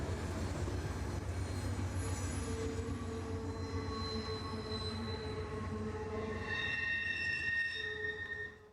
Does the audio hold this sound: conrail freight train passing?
yes